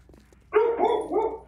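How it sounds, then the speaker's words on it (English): Dog barking in the survival video game 7 Days to Die: a single short, close woof followed by a quieter second bark, heard alone without talk after a near-silent lead-in. "I don't know why my dog's barking yet."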